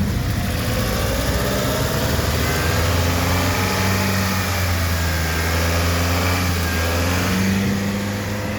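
A car engine runs steadily at idle in a repair workshop during engine sensor work, a constant low hum with broadband noise throughout and no speech.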